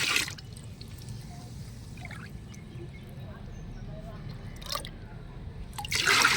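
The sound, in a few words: pouring neem cake liquid fertilizer into water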